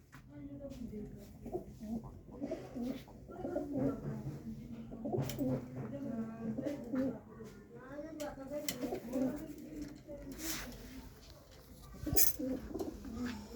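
Pigeons coo repeatedly at close range amid a busy backdrop of chatter and other bird calls, the soft rolling coos continuing throughout.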